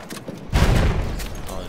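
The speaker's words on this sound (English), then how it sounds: "Oh, the tank is shooting." A tank fires in Battlefield 1 infantry combat, a single heavy boom landing partway through with a rumbling tail, close and loud amid battlefield noise.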